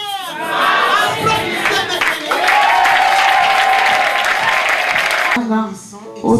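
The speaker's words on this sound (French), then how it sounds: "Applaudissez maintenant" A congregation claps during a church sermon service, a broad wash of applause mixed with loud cheering and raised voices, fading briefly near the end.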